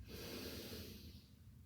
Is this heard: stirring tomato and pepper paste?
no